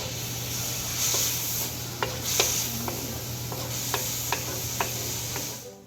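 Garlic and tomato sauté in oil in a pan, a soft continuous sizzle with a steady background hiss and a handful of sharp spatula taps and scrapes scattered throughout, moderately close.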